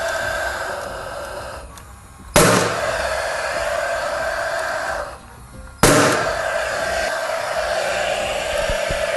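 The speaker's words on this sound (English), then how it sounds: "hold it in place, again with the nail gun, drive it home" Nail gun fastening HardiePlank fibre cement cladding, two sharp loud shots several seconds apart over a continuous hiss of background machinery, close by.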